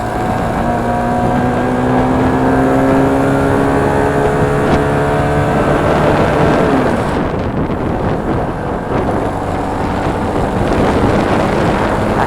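A CF Moto NK 250 motorcycle in third gear, its engine note rising in steady revving harmonics while riding, loud and close under heavy wind buffeting across the microphone, easing briefly before pulling again.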